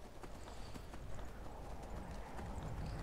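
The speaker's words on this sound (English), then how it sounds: "You're okay, horse. You can hoof it." A horse clip-clopping at a steady walking rhythm in the video game Skyrim, quiet, repeated hoof thuds under faint background ambience.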